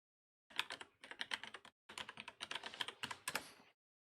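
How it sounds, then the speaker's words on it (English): Rapid typing on a computer keyboard, quick bursts of crisp key clicks in two runs with a short pause between, close and fairly quiet with no talking. "I'll type it in here"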